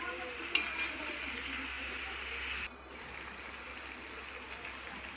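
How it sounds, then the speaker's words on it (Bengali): Mixed vegetables being stirred and sautéed with salt in a pan, with light clinks of a spoon against metal and a soft frying hiss that drops quieter partway through. "তো পরিমাণ মতো নুন দিয়ে ভালো করে কষিয়ে নিচ্ছি"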